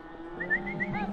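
A single cow lets out a long, rising moo close by during a cattle drive on a remote Montana range, sustained over about a second.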